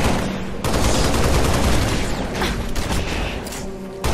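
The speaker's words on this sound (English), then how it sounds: "I'm under fire!" Rapid, dense gunfire from the video game Halo Reach, in the Pillar of Autumn mission on Xbox 360. Loud, continuous overlapping shots and bursts fill the whole clip with barely a pause, and no one speaks.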